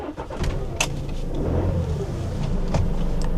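A Giottiline Siena motorhome pulls away, its engine a low steady hum that rises a little with a couple of faint clicks and thumps from inside the cab, close by and without talk.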